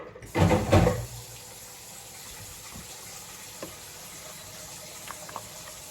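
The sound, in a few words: water running into a pot for cleaning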